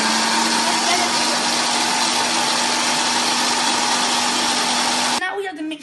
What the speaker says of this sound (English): we're at the mixing stage where you blend up all your ingredients